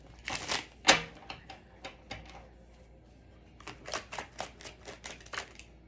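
Tarot cards are shuffled in quick, crisp riffling bursts, a few separate shuffles with short pauses between, close and fairly quiet.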